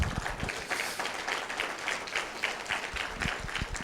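A church congregation claps in applause during a sermon, a fairly quiet, steady patter of hands with some sharper individual claps, continuing evenly without talk over it.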